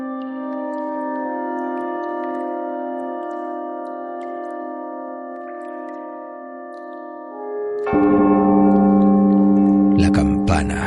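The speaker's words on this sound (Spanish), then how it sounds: "La campana repicó una vez" A single bell strike rings out in a dark, gothic audiobook scene set under a vaulted ceiling, coming in loud and resonant after a long sustained musical drone and then ringing on with bright, dense overtones.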